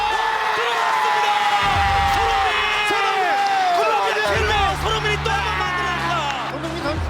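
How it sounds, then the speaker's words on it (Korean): A huge stadium crowd at a World Cup football match roars and cheers continuously, with rising whoops and swells, while a commentator talks excitedly over the din. "이 엄청난 지금 이 환호성"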